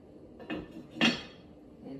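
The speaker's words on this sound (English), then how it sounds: "now I'm just gonna put the lid on top" A metal lid lands on a soup pot in two quick clanks close by, the second louder, against a quiet kitchen background.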